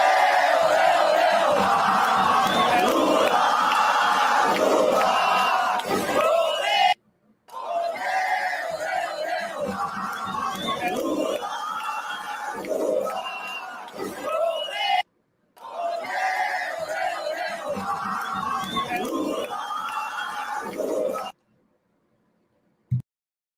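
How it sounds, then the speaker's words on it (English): A large crowd in Brazil cheers and shouts loudly, a dense roar that cuts off briefly twice before resuming, then stops abruptly. "The crowd cheering."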